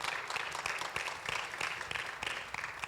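A church congregation gives steady applause to the Lord, the clapping soft and somewhat distant, with scattered sharper claps standing out.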